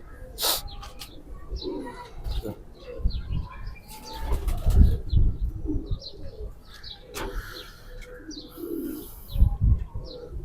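Kept pigeons of a Sabz Chena breed flap their wings in sharp bursts and coo softly, close by, with intermittent chirps and scattered handling noises between the flurries.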